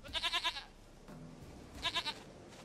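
Two bursts of goat bleating from The Witcher 3, each a quick run of three or four wavering calls, separated by a quieter stretch of game ambience.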